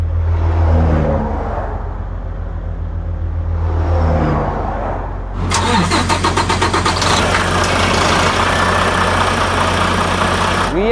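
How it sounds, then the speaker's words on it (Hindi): A Volvo VNL 760 truck with a 455 diesel engine cranks and catches, then settles into a loud, steady idle close by after a quieter stretch of running. "VNL 760 की 455 मोटर है ये।"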